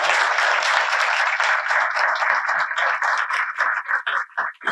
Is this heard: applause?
yes